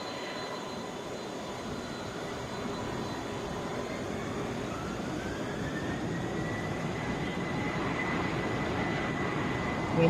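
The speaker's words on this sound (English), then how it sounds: "Coming out of the bend, Delta 2622, headed to Knoxville on a Boeing 717." A Delta Boeing 717 jet airliner taxis at Atlanta airport, its engine rumble growing steadily louder as a rising whine emerges midway through, heard alone at moderate distance.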